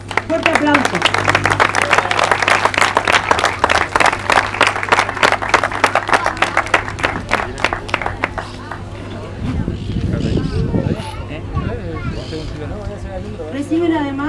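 Loud, dense applause from an audience at a televised award ceremony for a women's 8K race, steady clapping through most of the stretch before thinning out, with crowd murmur and a voice talking near the end.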